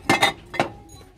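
Ceramic mugs and small bowls with flamingo, toucan and parrot designs knocked together while handled, giving three sharp close clinks in quick succession and then a faint ringing tail.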